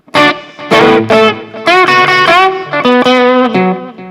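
Electric guitar with ceramic pickups, Stratocaster-style, playing a short bright phrase of ringing notes and bends with a driven, effected tone, loud and close.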